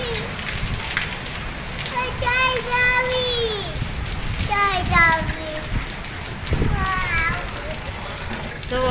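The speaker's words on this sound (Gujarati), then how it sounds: "વરસાદ ધીમો પડી ગયો પણ વાવાઝોડું શરૂ થઈ ગયું છે" Steady rain falls alongside gusting storm wind, a continuous wash of noise with bird chirps and voices faintly mixed in.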